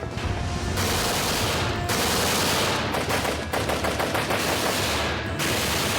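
Enemy gunfire in a Somalia battle, with heavy sustained automatic fire and overlapping bursts forming a loud, dense fusillade that rolls on without pause, close and harsh, with no speech over it.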